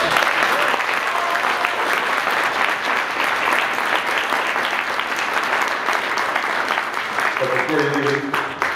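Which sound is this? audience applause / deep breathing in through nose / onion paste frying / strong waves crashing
audience applause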